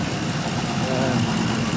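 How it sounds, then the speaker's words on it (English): Ford F350 truck engine idling while transmission fluid is added, a steady low rumbling drone close by with even vibration through the whole short stretch. "To add transmission fluid, you have to have this thing running."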